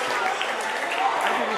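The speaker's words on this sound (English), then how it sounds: "Round of applause." An audience applauds after a 7th and 8th grade boys' basketball game at a rec event, with steady clapping mixed with chatter and voices.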